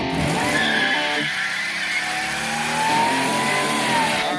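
A 2000 Buick Century doing a burnout: a loud, continuous engine roar with a rising, squealing tire screech held steady throughout, close and with no talking.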